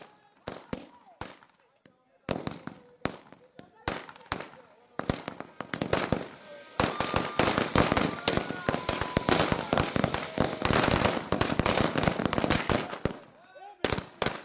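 Rapid strings of firecrackers crackle and pop loudly at a village celebration, starting as scattered bangs then building into a dense continuous barrage, with voices faintly underneath.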